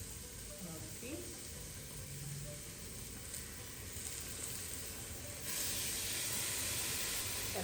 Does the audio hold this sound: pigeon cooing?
no